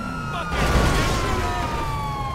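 Police car sirens wail through a Grand Theft Auto V police chase, holding a steady loud tone that runs throughout, with a thumping pop near the start and game noise underneath.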